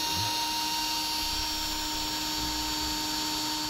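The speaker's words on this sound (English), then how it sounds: "we'll drill our first hole and then we'll slowly work our way up using larger drill bits" A power drill bores a pilot hole through the metal frame of a 2007 vehicle while air helper springs are being fitted, giving a steady high whine with a faint low rumble underneath, close by and without talk.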